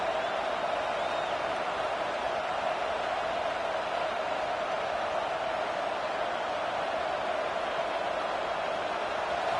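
A steady, dense stadium crowd roar from a college football video game fills the whole stretch at an even level, with no distinct cheers or breaks.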